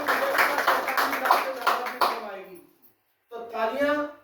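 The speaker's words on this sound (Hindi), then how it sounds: "कम से कम 45 लाख जैसी तालियां तो होनी चाहिए" A meeting audience claps loudly and steadily for about two seconds, the applause fading out into a short silence before a voice speaks.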